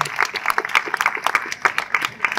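Applause breaks out at a family gathering held at a church in Shirlay, with brisk, uneven hand-clapping from a modest crowd, close and lively for a couple of seconds.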